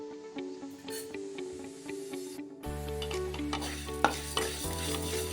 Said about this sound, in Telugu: చూసారా ధనియాలు కూడా దోరగా వేగిపోయాయి